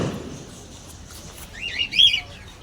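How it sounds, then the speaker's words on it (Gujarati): Small colourful red and yellow parrots give a few quick, faint chirps late on, over quiet background hiss. "દેખો મિત્રો નાના નાના પોપટો કેવા કલરિંગ પોપટો છે"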